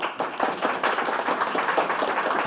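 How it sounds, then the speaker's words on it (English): An audience at an indie game developer panel at the Screenshake 2017 event claps steadily, a close, busy patter of many hands continuing evenly throughout. "Round of applause."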